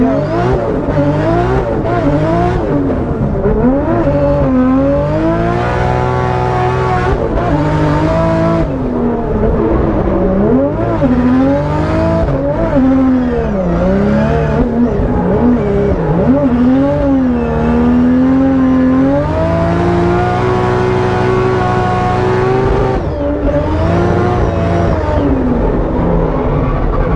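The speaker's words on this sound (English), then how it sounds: "fast drifting" A BMW E36 with a swapped 2JZ engine drifts, the loud straight-six revving in long rising and falling sweeps through gear changes, close and sustained, with bursts of tire squeal and no voices.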